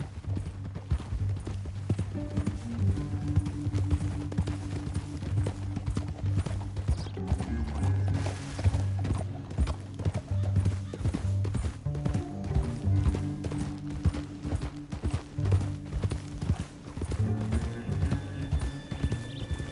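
Steady clip-clop of horse hooves galloping throughout, with a low rumbling bed underneath and no talking, from the video game Red Dead Redemption 2.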